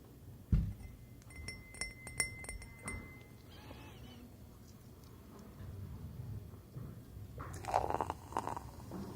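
A glass is set down, giving several bright, ringing clinks close up in a quiet ASMR setting, followed by softer handling noises and another cluster of clinks near the end.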